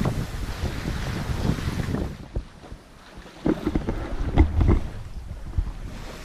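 Wind buffeting on a sailboat at sea in a 12-13 knot wind, gusty rushing noise with water sloshing and occasional knocks, rising and falling in bursts, no voices.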